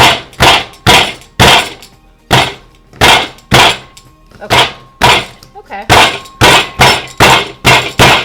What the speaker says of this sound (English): the other ones I'm going to smash like this